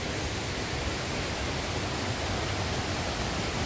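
Flowing river water near a temple makes a constant, even rushing hiss that holds steady with no pauses or voices.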